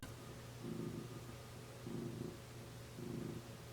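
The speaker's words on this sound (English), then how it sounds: "Maybe you can hear him purring." A cat being petted purrs up close, soft and quiet, in three slow rhythmic swells with faint rumbling between them.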